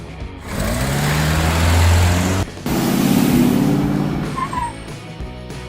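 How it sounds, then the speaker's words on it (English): A pickup truck engine runs loud and close, revving through a steady rising drone, cutting out briefly in the middle before resuming and fading toward the end. "Pickup truck."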